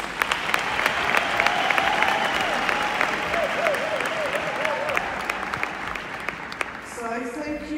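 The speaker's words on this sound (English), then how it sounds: "let's give our wonderful graduates another warm round of applause" Warm, sustained audience applause for graduates at a graduation ceremony, steady dense clapping throughout with a little crowd noise, and a voice speaking over it near the end.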